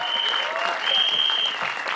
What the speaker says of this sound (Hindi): अब्बास मस्तान साहब के लिए जोरदार तालियां